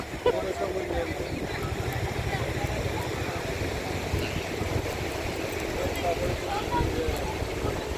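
Sea at a Mumbai seashore produces a continuous washing roar of surf, with voices heard over it.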